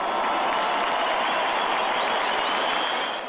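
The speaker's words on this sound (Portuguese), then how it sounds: "O italiano recebeu também os aplausos da fiel torcida ao ser anunciado no telão do estádio" Loud, dense applause from a large stadium crowd of football supporters, steady and sustained throughout with no break, fading slightly at the very end.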